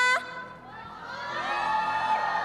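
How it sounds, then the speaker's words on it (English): An arena crowd at a Honor of Kings esports playoff event cheers and whoops for KPL, the roar swelling after a brief announcer voice at the start and holding steady to the end. "Ladies and gentlemen, can we hear some more voices for KPL?"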